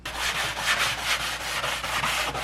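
Steady, continuous sanding of a car hood vent surface being roughened for foam and fiberglass, a close, dense scratchy rasp with slight rhythmic swells of back-and-forth strokes, heard alone.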